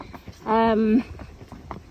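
Hooves of a calm ridden horse clip-clop in a steady walking rhythm, close by, with a brief sustained voiced tone partway through and talk-like sounds around it.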